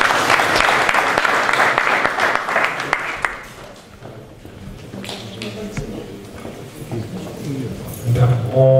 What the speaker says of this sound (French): Petits applaudissements